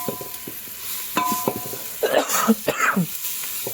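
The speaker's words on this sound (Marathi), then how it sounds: "खूप ठसका झालेला आहे" Someone coughs in a short fit at close range over the faint scrape of stirring and a low sizzle from a pan of rice and vegetables with potato.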